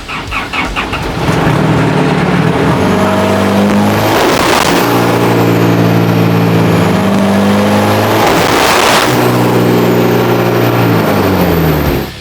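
Toyota Revo 2.4 race truck fitted with an F6 turbo revs hard, the engine climbing in two loud rising sweeps with turbo whine, close and steady for the whole stretch.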